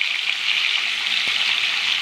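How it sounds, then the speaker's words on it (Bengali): Paneer cubes rubbed with salt fry lightly in a pan, giving a steady, even hiss of bright sizzling that holds at a constant level throughout with no voices. "এবার এই পনিরগুলোকে অল্প একদম হালকা করে ভেজে নেব।"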